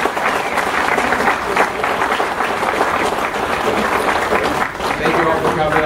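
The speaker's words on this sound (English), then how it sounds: "Do you hear a round of applause for all their hard work?" Banquet crowd at a bass fishing tournament applauding the volunteers, dense continuous clapping from many hands, loud and sustained for several seconds with some crowd murmur mixed in.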